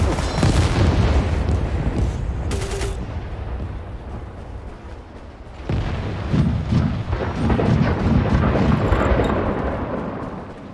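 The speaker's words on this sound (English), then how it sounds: "Our artillery is commencing fire." Artillery fire in a video game, a few heavy booms and rumbling blasts early on followed by sustained rolling explosive rumble, loud and dense with no talk.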